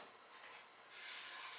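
Light hand sanding over a calcite-and-resin star inlay to clear leftover residue, soft close rubbing strokes that turn into a steadier, louder hiss partway through.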